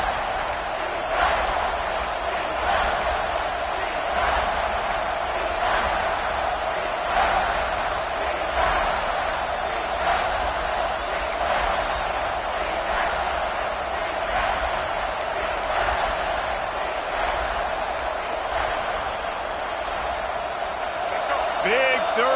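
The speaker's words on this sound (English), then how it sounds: "this crowd is getting behind this defense" A packed college football stadium crowd roars steadily through a timeout late in the game, a dense wall of cheering that never lets up, with scattered whistles and shouts over it.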